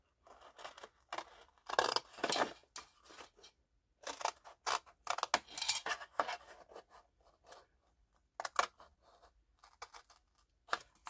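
Scissors snip through a paper gingerbread-house template in short bursts of crisp cuts, close and clear, with brief pauses between runs of snipping.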